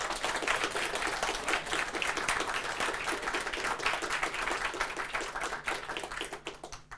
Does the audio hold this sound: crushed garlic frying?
no